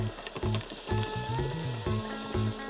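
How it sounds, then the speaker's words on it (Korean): Cabbage stir-frying in a pan gives a hissing sizzle that runs under a louder tonal musical backing for the whole short stretch. "굴러다니던 양배추도 넣어서 볶아줄게요"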